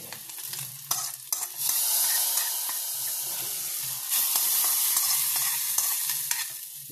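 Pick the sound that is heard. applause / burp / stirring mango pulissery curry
stirring mango pulissery curry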